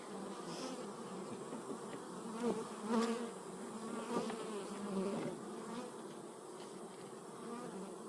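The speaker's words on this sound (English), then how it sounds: "Shake all those bees off and then I'll get this out of the way." Many bees buzz in a dense, continuous drone, close and fairly loud, with individual insects swelling past now and then.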